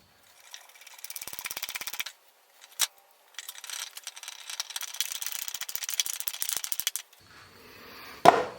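Screws are driven into the risers of a wooden roll-out chicken nesting box, heard as repeated bursts of close ratcheting clicks separated by short pauses, followed by a sharp knock at the end.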